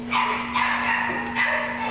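A dog gives about three short, high yipping barks close by, over a steady low electrical hum.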